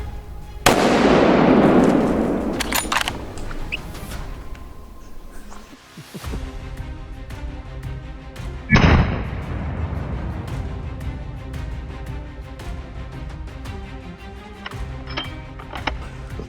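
A rifle shot fired at a bear during a hunt at a blueberry hill outfitter, one loud sharp crack that rings out and decays, then a second shot a few seconds later, with quiet outdoor background afterward.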